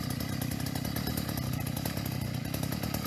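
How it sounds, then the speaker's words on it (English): A gas-powered auger runs steadily and loud, drilling into the ground for outplanting on a hillside, with a continuous engine drone throughout and no talk. "So set your auger in."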